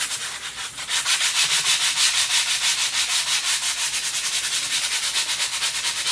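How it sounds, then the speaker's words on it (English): A wooden block is sanded by hand with quick, even back-and-forth strokes, a close, loud, rhythmic scratchy rasp with no talking. "We're just going to sand it down a little bit."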